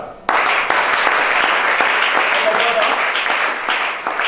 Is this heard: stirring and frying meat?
no